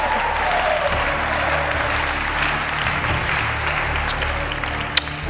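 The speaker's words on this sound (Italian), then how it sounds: "Questo applauso è per te." A studio audience on an Italian TV reality show claps in sustained, dense applause that holds steady throughout, with one sharp accent near the end.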